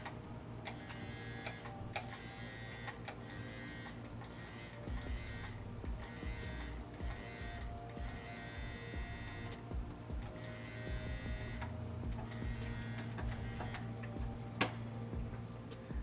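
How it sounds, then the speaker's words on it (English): A tattoo machine running under control of a CNC X WE Plus wireless unit, a quiet continuous motor buzz with faint ticking, steady and close for the whole stretch without talk. "you can see it's controlling the tattoo machine now."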